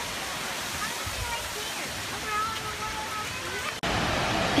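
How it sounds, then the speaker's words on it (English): A waterfall roars as a steady, broadband rushing wash throughout, with brief faint sounds of people nearby and a sudden shift in the noise near the end. "Love waterfalls."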